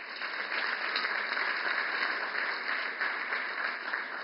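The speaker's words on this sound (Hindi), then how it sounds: "बहुत बहुत तालियां।" Audience applause at an inauguration ceremony for the Indian Newspapers Society Towers in Mumbai, a dense, steady wash of clapping from a large crowd sustained throughout without talk.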